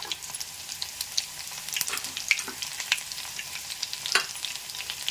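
Fenugreek, mustard and cumin seeds frying in hot oil for a bitter gourd tamarind curry, a steady close sizzle with scattered sharp pops and crackles, no talking.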